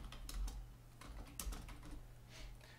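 A name being typed on a computer keyboard, with a quick run of soft key clicks of uneven rhythm, close and fairly quiet against a low background hum.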